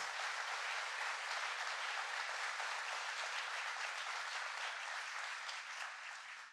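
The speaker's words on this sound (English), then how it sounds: "So please give her a round of applause." Audience giving a sustained round of applause at a presidential jobs event in New York, dense even clapping from a large crowd, heard alone at a moderate distance and tapering slightly at the end.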